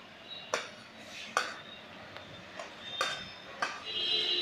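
Chicken curry with tomatoes being stirred in a pot, with repeated metallic spoon knocks and scrapes against the pot at irregular intervals over a low background.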